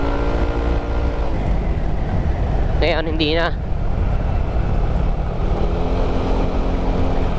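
An engine fitted with a balanced connecting rod runs at a steady idle, giving a close, constant rumbling drone. A voice speaks briefly over it partway through.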